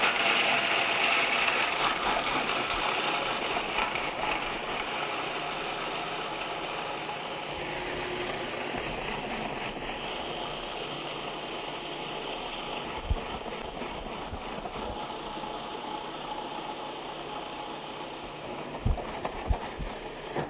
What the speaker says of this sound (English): we just put the pecans in, and we're going to tumble them around real quick, just grind them into a meal